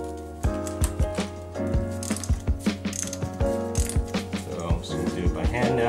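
A flex-head ratchet loosening a spark plug on a Subaru FB20 engine, giving a rapid, close series of sharp metallic clicks in steady bursts, loud over faint background hum.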